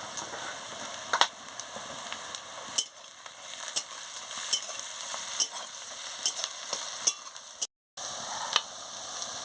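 Onions frying in oil with a little salt, stirred with a spoon: a steady close sizzle punctuated by regular light scrapes and ticks of metal against the pan, with one brief dropout near the end.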